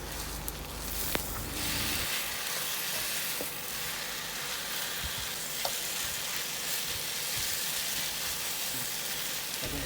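Pad thai noodles with egg stir-fried in a hot pan, a steady loud sizzle and hiss throughout with occasional scrape and clack of the spatula, close and alone with no talking.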